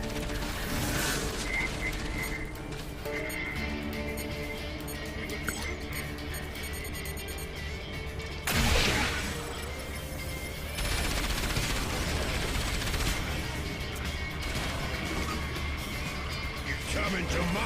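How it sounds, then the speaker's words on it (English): A turret gun in the video game Pigsy's Perfect 10 clatters mechanically as it spins up, then fires in steady sustained bursts with a loud crack midway, with game sounds layered throughout. "gotta get the turret gun online."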